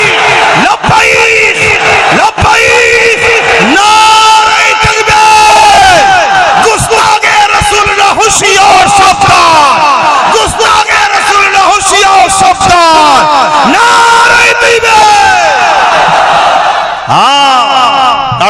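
A large crowd at a Bengali religious gathering chants slogans in loud, repeated unison responses to a preacher, with swelling shouted calls carrying on throughout.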